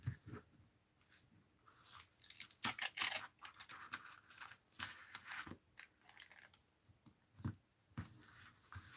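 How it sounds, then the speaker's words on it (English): Tape is pulled off in short crackling strips and pressed down on a page of a mixed-media art journal, making close, irregular ripping and rubbing bursts with no talk. "And then I want to tape it down here."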